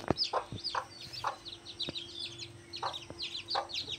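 A hen with eight newly hatched chicks gives soft, spaced clucks while the chicks peep in quick high bursts, all fairly faint and close in a quiet indoor room.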